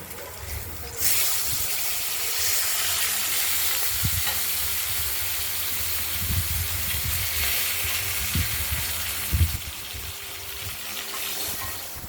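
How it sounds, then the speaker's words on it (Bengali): Rohu fish frying in a covered kadai, a steady broad sizzle and hiss of hot oil running throughout with small pops and spatters, close and fairly loud, no talking. "কড়াইয়ের ঢাকনাটা খুলে দেখে নিচ্ছি মাছগুলো প্রায় ভাজা"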